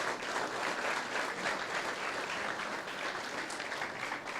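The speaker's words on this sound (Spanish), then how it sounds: "Dale un fuerte aplauso al Señor." A church congregation gives a loud, sustained round of applause, a dense even wash of clapping that holds steady throughout.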